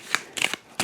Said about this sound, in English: I forgot to shuffle the cards after the last time.